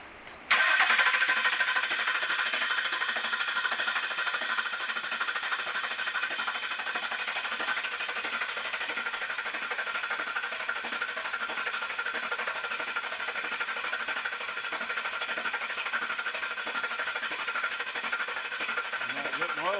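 Coyote V8 swapped into a Ford Bronco cranks on the starter for its first start, a steady, loud, continuous churning whir that keeps going without catching.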